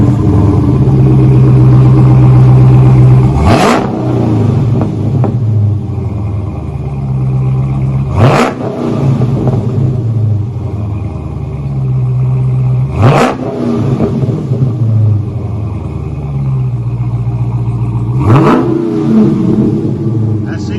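A 2020 Dodge Scat Pack V8 with single-chamber V-tube mufflers idles with a deep, throaty rumble and is blipped four times at even intervals, each rev a sharp rising roar close by.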